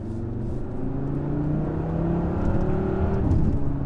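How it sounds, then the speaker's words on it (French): Steady five-cylinder engine note of a Cupra Formentor VZ5 SUV, a smooth, moderately loud hum with warbling harmonics that rises slightly in pitch and intensity as the car pulls, heard from inside the cabin without talk. "On a toujours cette petite sonorité là du 5 cylindres que j'aime beaucoup"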